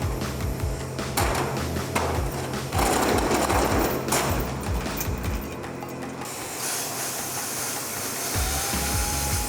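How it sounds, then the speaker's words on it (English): Eastside Cutmaster 60 plasma cutter slicing through the steel wall of a shipping container, a steady loud hiss and roar with shifting intensity and sputtering bursts, continuous throughout with no voices. "We use the Eastside Cutmaster 60 and it cut like butter."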